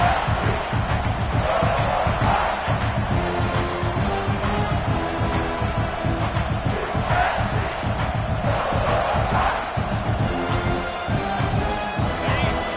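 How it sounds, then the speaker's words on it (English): Stadium crowd roaring and cheering at a football game, a loud, sustained wall of voices that swells in waves across the whole stretch. "This crowd knows when to bring it."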